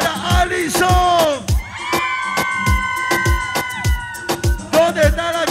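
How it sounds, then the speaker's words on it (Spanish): Friends shouting and whooping loudly together at a birthday party in a disco, their yells rising over dance music with a steady, pounding beat. "quiero un grito fuerte de las mejores amigas, un grito fuerte"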